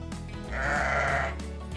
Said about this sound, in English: Good work. It's a sheep.